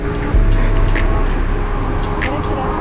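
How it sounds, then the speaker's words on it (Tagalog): Steady car traffic rumble on a city road in Taytay, heard from a bicycle in a bike lane along Manggahan and Broadway, loud and continuous with a couple of brief hissing passes. "Ingay na naman ng video na to. Puro kotse."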